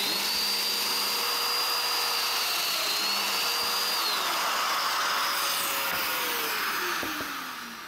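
A Festool Domino DF500Q joiner cuts into MDF board with a loud, steady high-pitched motor whine and gritty cutting noise. Pitch dips and rises slightly as it plunges, then tapers off at the end.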